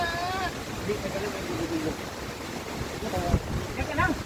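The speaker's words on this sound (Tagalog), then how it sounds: "Tumataas na yung alon eh." Ocean waves wash and surge continuously at close range as the swell rises in Mindoro, with wind buffeting the microphone and faint voices in the background.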